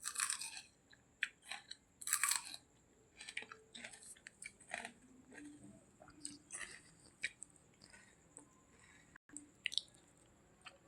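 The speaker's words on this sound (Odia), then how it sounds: "ମୁଁ ପ୍ରଥମ କରି ଆଜି ପଖାଳ ଖାଉଛି" Someone eating pakhala, an Odia fermented rice dish, in a village, with close, quiet crunching and wet chewing bites in an irregular rhythm and short pauses between mouthfuls.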